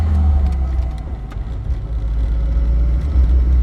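A supercharged 7AGZE hybrid engine swapped into a Toyota AE86, a steady, fairly subdued low idle rumble with a faint whine, close up and continuous without revving.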